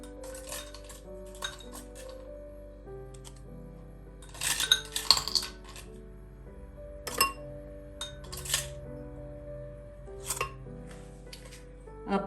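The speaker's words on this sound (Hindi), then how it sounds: "अब बर्फ ऐड करेंगे।" Ice cubes clink and knock into a glass of orange juice in a home kitchen, a few bright clattering bursts over steady background hum, with no talking.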